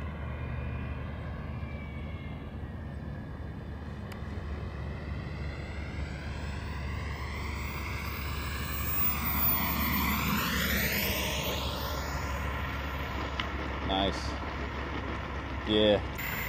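A small Avanti S V2 RC turbine jet whines overhead during its landing, the high-pitched turbine note sweeping down as it passes and approaches, fairly faint over outdoor background with a person talking nearby.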